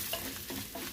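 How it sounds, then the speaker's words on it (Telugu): Dried red chillies, asafoetida and fenugreek fry in oil, producing a brief, faint, even sizzle with a few soft pops and stirring sounds. "4-5 ఎండుమిరపకాయలు, కొంచెం ఇంగువ, తర్వాత కొంచెం మెంతులు వేసుకొని వేయించుకోవాలి"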